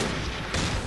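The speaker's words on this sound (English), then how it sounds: "Yeah, this tank is shooting" Tank cannon fire in the game Close Combat Cross of Iron comes as a dense, rumbling burst of booms lasting under a second, with a second impact surging midway.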